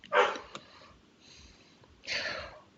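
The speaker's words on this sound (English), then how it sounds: "While we're waiting on Trek's dog to shut the fuck up" A dog lets out a few short, breathy barks or snorts in bursts, moderately close, with quiet gaps between them and no talking.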